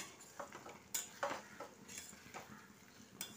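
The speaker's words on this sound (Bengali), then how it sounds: "ভালো করে নাড়িয়ে আমি এটা নামিয়ে নেব" Soft, irregular scraping and clinks of a spoon stirring tomato prawn curry in a pan, faint and close, with a light sizzle underneath.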